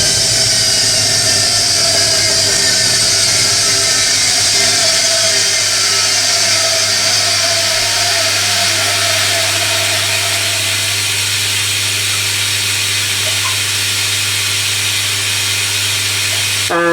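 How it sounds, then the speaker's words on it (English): A Hoover Electronic A3172 washing machine on a cottons 40 cycle enters its second rinse, a loud steady motor whine and hum droning on continuously before cutting off abruptly at the end. "Going to the second rinse."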